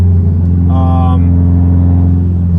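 A turbocharged 1988 Ferrari Mondial Coupe engine pulls hard in low boost mode, a loud steady drone with rising harmonics, while a voice talks briefly over it.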